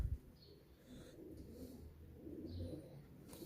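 Pigeons coo in low, rolling murmurs at the Lahore Lari Adda pigeon market, a steady close chorus with faint background bustle and no clear talk.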